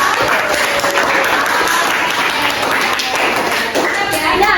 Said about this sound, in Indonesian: yuk kita kasih tepuk tangan dulu buat Salsa